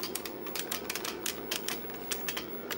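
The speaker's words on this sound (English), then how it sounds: "Really nice clicky keyboard." Typing on an IBM Model F clicky keyboard paired with an IBM PC XT 5160 makes a rapid, steady run of crisp, sharp key clicks, close-up and fairly quiet with no voices.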